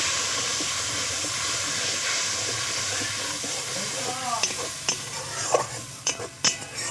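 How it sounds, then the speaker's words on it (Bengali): Spice paste of chili and turmeric powder with a splash of water hisses steadily in a pan for fish curry, then a spatula scrapes and clatters in quick stirring strokes toward the end, with faint voice in the background. "ভালো করে মশলাটাকে কষিয়ে নেব,"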